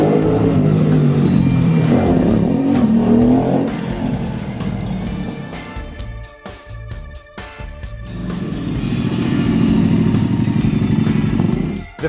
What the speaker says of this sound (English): So let's jump back on the Aprilia and I'll go and take a look around.